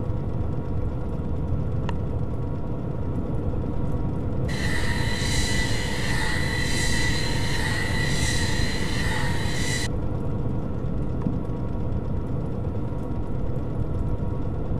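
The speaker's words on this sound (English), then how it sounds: "Diesel engines kick in, our rate of knots will increase." A U-boat's diesel engines run in the Iron Wolf VR game, a steady low mechanical drone that holds throughout, with a brighter whining layer joining for a few seconds in the middle.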